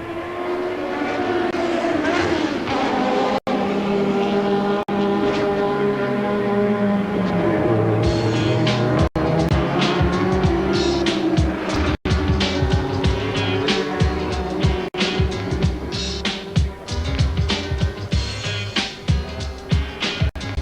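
Formula Pacific race cars scream past on the 1991 Wellington street circuit, high-pitched engines rising and falling as they pass close by, layered over one another at steady loud volume with sharp gear changes.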